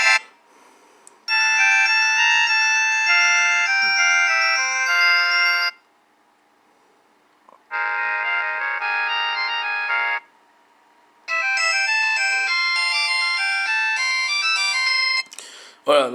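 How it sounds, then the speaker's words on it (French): Zeblaze Crystal smartwatch notification ringtone: three long, loud melodic bursts of bright electronic tones, separated by short silent gaps, with no talk over them. "les sonneries de notification, c'est pareil, elles sont beaucoup trop longues."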